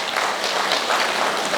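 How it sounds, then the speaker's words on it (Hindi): Dense, steady applause from an audience at an indoor session, continuous and loud throughout with no talk. "इनके लिए एक जोरदार तालियां।"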